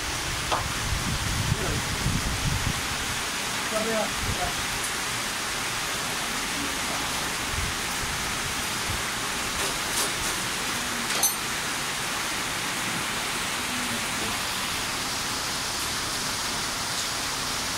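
Steady rain falling outdoors, a continuous broad hiss at even volume throughout, with faint voices and scattered knocks underneath.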